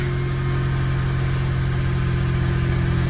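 A Smart Roadster's small engine runs at a steady, loud idle with a low throbbing hum, close and continuous, without revving or voices.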